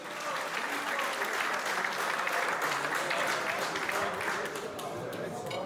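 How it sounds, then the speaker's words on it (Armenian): A crowd applauds for Arman Mardanyan at a live event, giving steady, dense clapping from many hands that carries on evenly throughout at a moderate distance. "եկեք մի հատ ծափարենք Արմանի ժողովուրդ"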